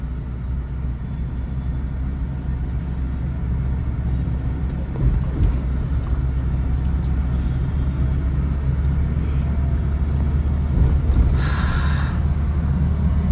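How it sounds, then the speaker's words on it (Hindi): A car drives steadily through traffic with a low, continuous engine rumble and road noise that rises slightly as it speeds up. Faint passing sounds from other vehicles come through, and no one talks. "हल्का सा एक्सेलेटर ले लो, हाँ बढ़ाओ स्पीड"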